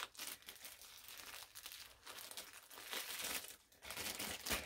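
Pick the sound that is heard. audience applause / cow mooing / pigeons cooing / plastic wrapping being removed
plastic wrapping being removed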